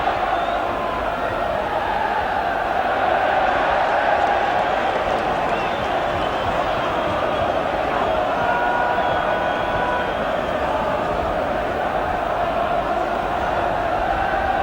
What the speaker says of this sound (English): and the crowd rising to Tommy Cassidy now